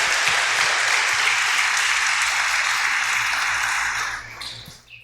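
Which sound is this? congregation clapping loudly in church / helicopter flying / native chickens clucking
congregation clapping loudly in church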